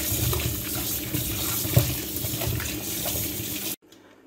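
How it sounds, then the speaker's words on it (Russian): Potatoes being rinsed under a running cold water tap, a steady close splashing rush with small spatters, ending abruptly as the water stops. "Еще раз промываем картошечку под струей холодной воды."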